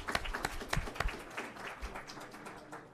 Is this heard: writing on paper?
no